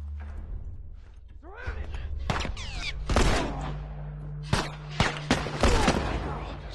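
Gunfire in The Last of Us video game: several sharp, loud shots rise out of a low rumbling game background, with a few separate reports spaced apart toward the end.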